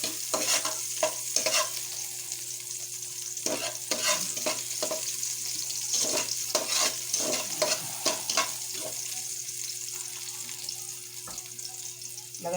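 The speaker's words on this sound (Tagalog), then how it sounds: "Sa kaldero ako mag-gisa." Sautéing in a pot while cooking squid ball noodles: irregular clinks and scrapes of stirring against the pot over a soft, steady sizzle, with scattered sharper knocks, heard close and alone.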